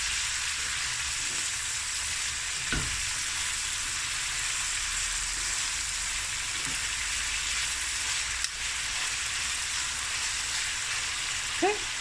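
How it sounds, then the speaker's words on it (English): Garlic and ginger frying in a pan for a snoek breyani, giving a steady, even sizzle throughout with a few faint clinks and no talk. "our garlic and ginger. Okay, now I'm going to fry this for about 5 minutes"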